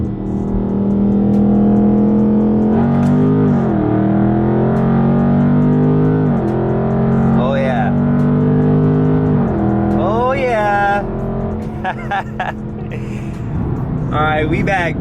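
A Dodge Charger Scat Pack accelerates hard from a 40 mph roll, its loud, close engine note climbing in pitch and dropping back at several quick gear shifts, with brief vocal exclamations near the end.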